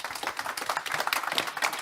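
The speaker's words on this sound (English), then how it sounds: "If you'll help join me by clapping to thank our wonderful panellists" A conference audience at a built-environment panel session claps in thanks, a fairly soft, uneven patter of many hands heard from some distance, continuing steadily without voices.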